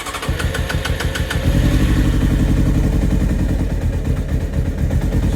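A Honda CBR600 F3 sport motorcycle engine runs loud and close, a steady rough idle that swells as the throttle is opened and then holds a raised, busy drone.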